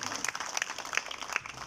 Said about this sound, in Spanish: Aplauso fuerte, ese aplauso fuerte, fuerte, fuerte para Lorenzo.